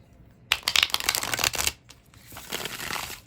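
A quick riffle of tarot cards being shuffled, a crisp flutter lasting about a second, followed by a softer second pass of sliding cards.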